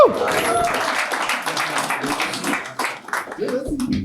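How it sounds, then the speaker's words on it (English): A comedy club audience applauds and cheers a standup act in a steady, fairly loud burst of dense clapping mixed with whoops and crowd voices for about four seconds. "Come on, start applauding."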